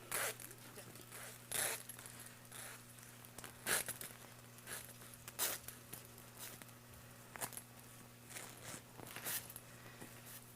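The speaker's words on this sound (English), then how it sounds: "zip all your zippers down to the end" Clothing zippers are zipped down to the end one after another, giving about a dozen quick, soft zipping strokes at an uneven pace, with quiet talk in the background.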